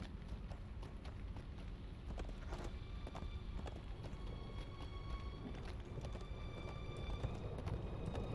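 Horse hooves in the video game Lord of the Rings Online, a steady rhythmic clopping at a slow pace, moderately loud and continuous over a low background rumble.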